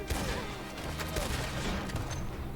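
A Red Dead Redemption 2 shootout erupts into dense, rapid gunfire, many overlapping shots cracking close and continuous, with faint voices mixed underneath.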